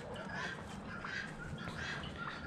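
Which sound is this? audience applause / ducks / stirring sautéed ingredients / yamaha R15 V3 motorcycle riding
ducks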